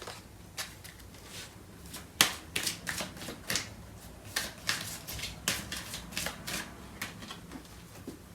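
Tarot cards are shuffled in a quiet series of soft, crisp riffles and snaps, with irregular short bursts of paper flicking close to the listener and no talking.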